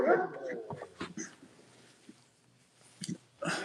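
A dog close by whimpers and gives short yips near food, in small scattered bursts with quiet gaps between, fairly faint overall.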